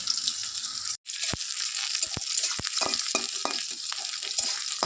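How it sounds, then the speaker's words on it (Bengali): Garlic and about twenty green chillies fry in hot oil in a pan for a Bengali village recipe: a bright, steady sizzle with a series of sharp spoon-and-pan clicks from stirring, close and fairly loud. "রসুন আর কাঁচা লঙ্কাটাকে ভালোভাবে ভেজে নিতে হবে"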